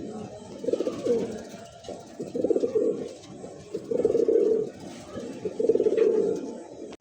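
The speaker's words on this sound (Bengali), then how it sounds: "লাল টকটকা কালারের মধ্যে একজোড়া লাহোরি কবুতর" A pair of Lahori pigeons, red in colour, coo in repeated low rounded phrases, four close bursts with short pauses, steady and near.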